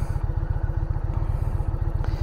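An Indian motorcycle with a 112 cubic inch engine idling close by, a fast, steady, throbbing putter that stays even throughout.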